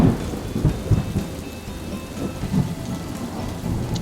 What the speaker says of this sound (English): Thunder can make different noises. It can rumble and it can crackle.